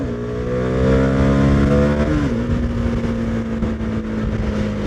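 A CF Moto 250 NK motorcycle engine revs up hard through the gears in traffic, its pitch climbing steadily before a quick shift drops it to a lower steady drone that carries on loud and close.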